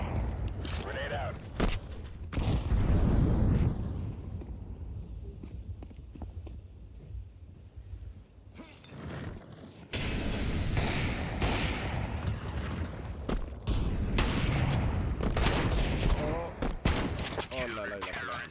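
A grenade and gunfire in a Counter-Strike match between Vitality and FaZe: bursts of rapid gunshots and blasts, some distant and some close, with excited commentators talking over much of the action.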